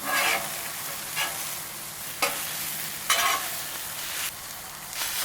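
Hash browns sizzle steadily on a flat-top Blackstone griddle, a broad continuous crackle with a few sharp scraping spikes from a spatula; no one speaks.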